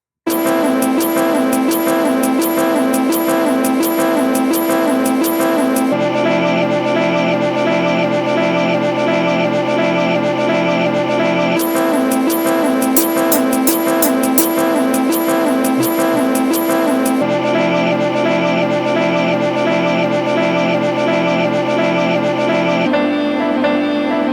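Samples cut from the original instrumental of a song, switching sections every few seconds: sustained tonal layers with steady rhythmic pulses, loud and continuous with no voices.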